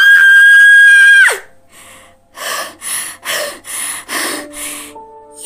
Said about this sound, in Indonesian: Ia menjerit ngeri disertai lompatan mundur.